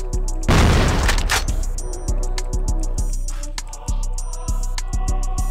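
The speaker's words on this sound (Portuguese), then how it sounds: "Toma essa granada aí!" A grenade in Counter-Strike goes off with a single loud, close blast and a harsh roar that fades over about a second, followed by sharp clicks and a steady tonal game soundtrack.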